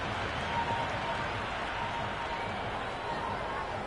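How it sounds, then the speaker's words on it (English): Stadium crowd noise in the cricket video game Cricket 24 during an IPL match, a steady dense roar of cheering that continues without a break, fairly faint and wide. "The crowd is electric right now."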